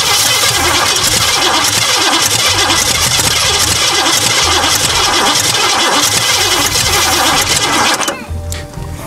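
A Cadillac V8 with a distributor and throttle-body injection cranks and runs roughly, missing on one cylinder. It is a loud, close, uneven chugging with rhythmic pulses for about eight seconds, then it dies away.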